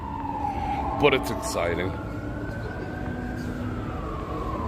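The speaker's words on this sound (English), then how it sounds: "I already hear sirens and police and stuff." An emergency vehicle siren wailing through the streets of Las Vegas at night, a rising and falling tone at middle distance under city traffic noise, while someone talks briefly over it.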